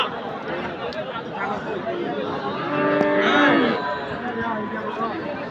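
At a cattle market in Ambari, Dinajpur, a calf gives a long, drawn-out moo close by, rising over a steady murmur of chatter and people talking nearby.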